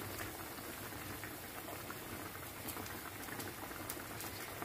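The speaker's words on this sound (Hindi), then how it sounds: "देखिए पानी में जोश आना शुरू हो गया।" Water bubbling at a rolling boil in a cooking pot, readied for Arabic-style rice, a steady, faint, even seething hiss with no voices.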